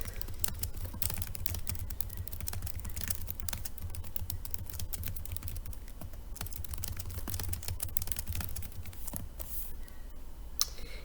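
Rapid typing on a computer keyboard, a close, continuous patter of key clicks with a few louder taps, running without pause for about eleven seconds.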